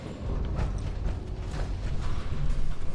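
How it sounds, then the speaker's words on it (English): Heavy bunker doors grind open in Fallout 76, a continuous loud mechanical creaking and rattling with metallic clanks for several seconds. "After the doors open"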